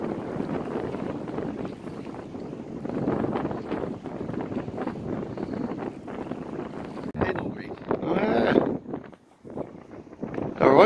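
Gusty wind on a sea fishing pier roars into the microphone as a continuous low rumble, with voices talking over it toward the end.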